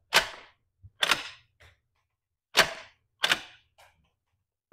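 A homemade straight-pull 9mm rifle action cycled by hand with dummy rounds, sharp close metallic clacks in two paired bursts, each followed by a faint rattle, with silence between.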